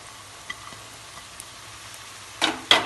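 One cup of washed corn kernels stirred in a hot frying pan for egg corn fried rice, with quiet scrapes early, then two louder bursts of sizzling and stirring near the end.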